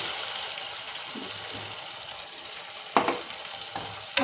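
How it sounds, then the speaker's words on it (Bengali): Ground black and white mustard with poppy seed paste frying in a pan as a little water is added, giving a loud continuous sizzle and hiss, with a couple of sharp stirring scrapes near the end. "মশলা ভাজতে কিছুটা জলটা দিয়ে দিলাম"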